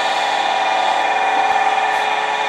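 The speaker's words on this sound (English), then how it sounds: "Alicia has switched to a skew chisel and she's just beveling down the edges so they line up perfectly" A skew chisel bevels the edges of a wooden pen blank spinning on a lathe against the bushings, giving a steady, close hiss of cutting wood that runs unbroken with no talk.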